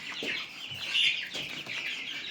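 Andijan black chickens at a small home farm cluck and murmur close by in an irregular stream, with a few louder calls and no talk.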